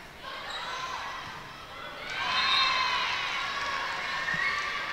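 Crowd cheering and shouting fills a high school volleyball gym, a steady wash of young voices that swells louder midway and stays raised to the end.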